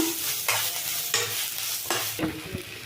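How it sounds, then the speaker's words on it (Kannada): Tomatoes fry in an oiled pan as a base for fish curry, a steady sizzle broken by a few scraping stirs, close and moderately loud with no talking. "ಈಗ ಇದಾಗಿದೆ ಟೊಮೆಟೊ ಹಾಕ್ಕೊಳ್ತಾ ಇದ್ದೀನಿ"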